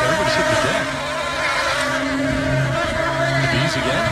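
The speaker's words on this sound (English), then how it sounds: "Bees on the move, apparently." A dense, droning buzz of a bee swarm on a Major League Baseball field hums continuously, wavering in pitch as they swirl nearby, with a faint crowd murmur underneath.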